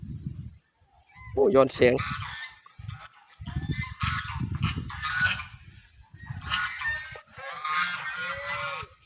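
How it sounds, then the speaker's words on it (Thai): Geese honk repeatedly at close range in a garden, loud nasal calls arriving in several bursts, while people talk between and over them. "นี่มีห่านพ่ออากอาก"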